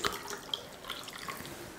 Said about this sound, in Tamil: இனி கொஞ்சம் தண்ணி,